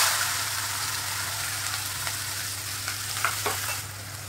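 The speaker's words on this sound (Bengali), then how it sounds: "প্রথমে দিয়ে দেবো পেঁয়াজ কুচিটাকে" Chopped onion sizzles steadily in hot spiced oil in a pan, a constant close frying hiss with a few faint stirring scrapes near the end.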